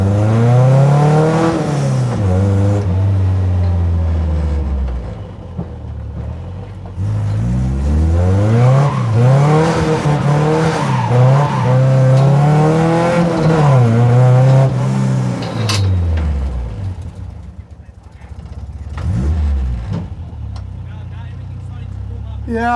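A home-built endurance race car on its first test drive, its engine revving up and down through repeated gear pulls, loud and close like an onboard recording, with mechanical clatter and whir under the engine note.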